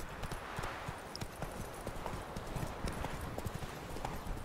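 Roach, a horse in The Witcher 3, clip-clops along at a steady trot, hoofbeats close and continuous over a soft outdoor ambience.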